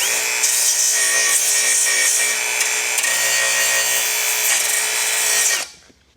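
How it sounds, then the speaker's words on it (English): Small finger belt sander deburring metal parts on a Jeep JL build, a loud steady high-pitched whine and grinding rasp that runs for several seconds, then winds down abruptly. "I think it's called a finger sander, but it's got this little tiny belt"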